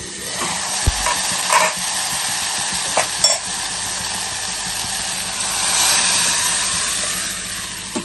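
Moong dal cooks on high heat in a tempering, a steady close sizzle and hiss with occasional stirring knocks and scrapes, fairly loud and even.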